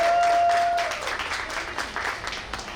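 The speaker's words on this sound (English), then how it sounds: "So give a round of applause to yourselves" An audience at a Black Music Month celebration claps in a steady round of applause, with a brief musical tone at the start, the clapping loud and sustained before tapering slightly.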